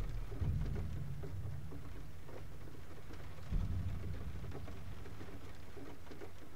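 Steady rain hisses in the Floodways level of the video game GTFO, with two low rumbling thunder-like swells rising over the constant downpour.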